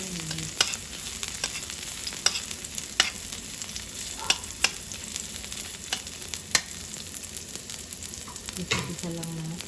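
Garlic fries in a cooking pan, a steady close sizzle with occasional sharp ticks and scrapes of stirring, and no speech.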